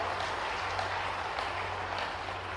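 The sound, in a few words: audience clapping loudly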